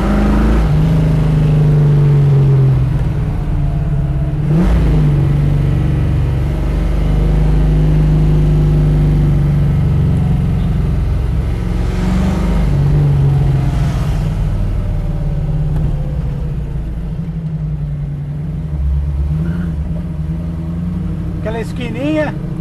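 A Mustang Shelby GT500 tribute car's engine drones loud and low throughout from inside the cabin, with rises in revs, while people talk over it.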